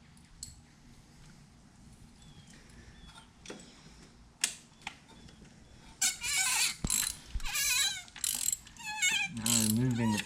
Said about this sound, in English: Now removing the plug.